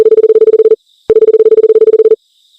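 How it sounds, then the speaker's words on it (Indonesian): Telephone ringback tone heard while calling the police, two long pulsing rings separated by a short gap, loud and clean with no voices. "aku akan telepon polisi"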